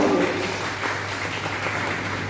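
An audience at a Universal Brotherhood Day gathering gives a soft, steady round of applause, fairly distant and diffuse, with a faint low hum from the hall underneath.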